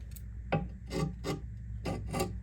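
A small wood chisel scrapes gasket sealer off the inspection cover of a 1924 Ford Model T with an oil leak. About six short, rasping strokes come in an uneven rhythm, close and fairly loud, with no talk.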